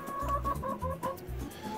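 Chickens clucking in a backyard coop during morning chores, a few short low clucks and murmurs close by, fairly quiet with no talking.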